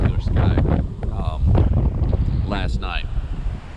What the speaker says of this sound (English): It's a little windy, I'm sorry, but hopefully that's turning out okay.